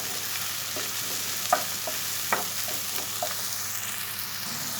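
Steady sizzling of peppers sautéing in a pan, with a few soft scraping stirs now and then; no talking.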